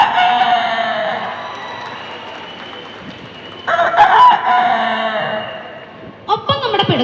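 A voice imitates a rooster crowing in a mimicry performance, with long drawn-out crow-like calls that rise near the middle and again toward the end, loud and close, with no other sounds.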